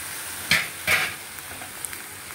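Capsicum, onion and green chilli sautéed in oil, a steady sizzle with two quick stirring scrapes close up, no talk.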